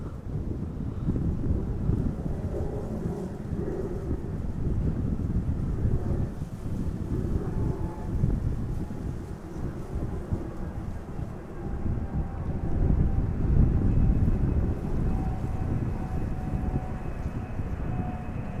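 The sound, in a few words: airplane arriving in crosswind at Amsterdam Schiphol Airport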